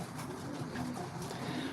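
Racing pigeons in a loft give soft, low cooing calls, repeated and fairly close, over a muffled background hum.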